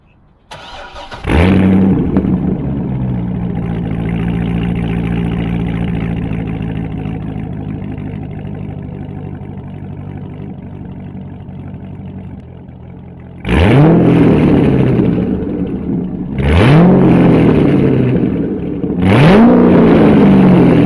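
A Chevrolet Corvette C6 Z06 with a muffler delete idles steadily, then revs sharply three times, each rev rising and falling back, loud and close.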